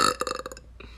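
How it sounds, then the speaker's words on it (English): A girl lets out a loud, close burp that rattles in quick pulses for about half a second, then trails into a softer, shorter gurgle. "Back to burping."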